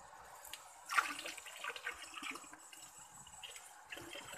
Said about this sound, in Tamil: அந்த திரவத்தை உள்ளே ஊற்றுறோம்.